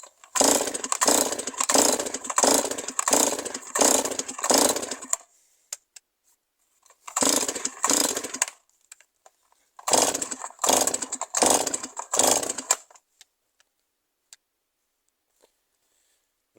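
A Stihl MS 260 chainsaw engine is pulled over and over in short rough bursts, sputtering in two clusters with pauses between, and never catches and keeps running.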